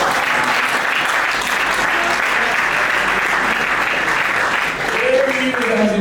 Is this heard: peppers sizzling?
no